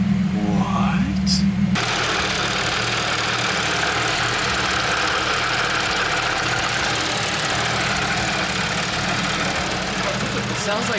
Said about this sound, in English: It sounds like something's rattling in here, right? Something sounds funky for sure.